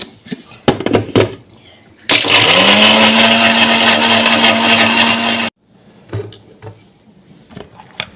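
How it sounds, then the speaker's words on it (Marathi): A kitchen mixer grinder blends peanuts and green chillies with a little water in a loud, steady motor whir of about three seconds, with clatter of the jar and lid before and after. "आता हे मिक्सरमध्ये बारीक करते आणि मिरच्या पण मिक्सरच्या भांड्यात बारीक करते."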